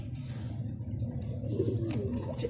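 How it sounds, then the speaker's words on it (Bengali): Mundiya pigeons kept on a farm give soft, low repeated coos, fairly faint against a light background murmur. "এখন আরেক জোড়া আপনাদেরকে দেখাই, আরেকটা মাদি, সিঙ্গেল মাদি, সেটাকে আপনাকে দেখাই।"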